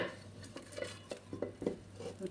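Onion stirred into hot oil with olive oil and a spoon of smen in a pan, a spoon scraping and clinking against the pan in short irregular strokes under a faint steady sizzle.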